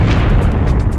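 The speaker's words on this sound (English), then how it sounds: "the core of the star collapses and the outer layers fall in on top of it and bounce outward in a tremendous explosion" A supernova explosion rendered as a cinematic sound effect: a continuous, loud, dense low rumble with a broad roaring wash that sustains for the whole second, with no voices.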